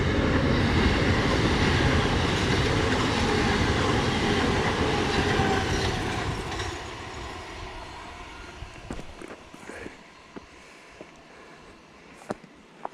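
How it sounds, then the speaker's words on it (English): An early morning train rumbles past a field in open countryside, a loud, close roar with rattling wheels that fades away into quiet, leaving a few faint clicks and outdoor sounds. "And here comes the early morning train."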